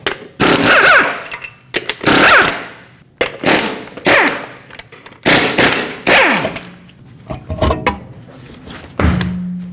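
Six lug nuts coming off a 2007-2017 Ford Expedition front wheel with a 21mm socket on an impact gun, heard as loud, close, repeated rattling bursts of hammering separated by short pauses.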